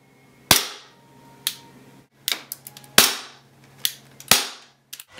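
A VFC M&P9c gas-blowback airsoft pistol fires outdoors in cold weather: several sharp, loud, snappy cracks at irregular intervals, with a few lighter clicks between them and no talk.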